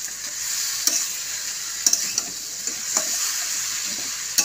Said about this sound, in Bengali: এবার এটাকে ভালো করে কষা হবে